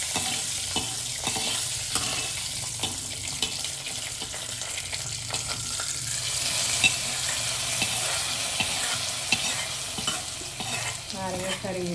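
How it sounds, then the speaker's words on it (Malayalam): Fried tempering of mustard seeds, chillies and curry leaves is stirred into a pot of cooked lemon curry, a soft wet sizzle under repeated scraping and stirring of a spoon, close and steady with no speech. "വറുത്തെടുത്തത് ഇതിലേക്ക് ചേർക്കുക"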